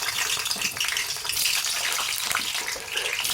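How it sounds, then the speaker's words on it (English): Eggplant pieces browning in oil over high heat give a steady, hissing sizzle that rises and falls, close and moderately loud, with no talk. "So on high heat, she's going to brown the eggplant pieces."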